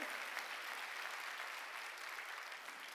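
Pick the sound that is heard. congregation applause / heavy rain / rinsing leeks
congregation applause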